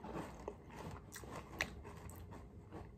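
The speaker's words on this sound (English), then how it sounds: "if that's me crunching on this cereal" Crunching on Special K Red Berries cereal, close and steady chewing with repeated crisp bites and crackles, quiet and alone.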